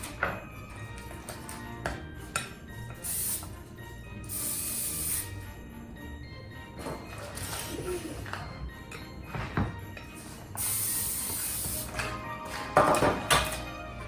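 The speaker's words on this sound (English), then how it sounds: "we're gonna spray the parchment paper that's in the pan" Several short hissing bursts of cooking spray onto parchment paper in a baking pan, close by, among light kitchen clatter and taps.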